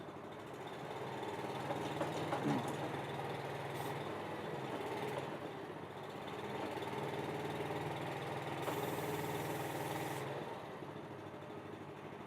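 A steady engine hum from an Athena 850 HE tracked machine, running continuously at a fairly even level with slight swells, no talk over it.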